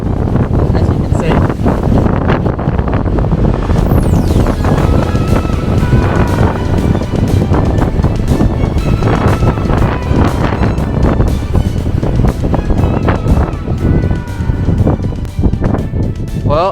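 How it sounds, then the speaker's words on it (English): Strong wind roars across a mountain summit on Tasmania's Overland Track, buffeting the microphone in a loud, unbroken gusty rush. "I just have to be really mindful of the risk this wind poses"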